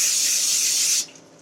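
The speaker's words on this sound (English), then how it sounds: "Then I'm going to spray my hand" A single steady hiss of cooking spray from an aerosol can, sprayed onto a hand in a kitchen, close and continuous for about a second before cutting off abruptly.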